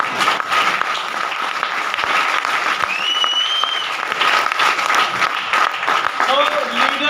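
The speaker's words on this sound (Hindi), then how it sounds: "ताली वाली बजा दो यार।" An audience at a business success seminar claps in sustained applause, a dense, loud roar of many hands lasting the whole stretch, with faint voices mixed in.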